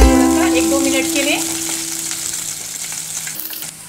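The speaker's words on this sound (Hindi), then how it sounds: "लहसुन, मिर्ची पका देंगे थोड़ा सा 1-2 मिनट के लिए।" Garlic and green chillies frying in a pan for mango guramma give a loud, steady sizzle, with some stirring noise and brief tonal sounds early on.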